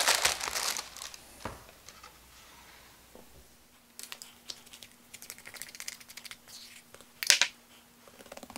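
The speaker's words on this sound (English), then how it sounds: "Line your proofing basket with a piece of parchment paper." Parchment paper crinkles and rustles in bursts while lining a bread proofing basket, with sharp close crackles separated by quieter pauses and a faint steady hum in the background.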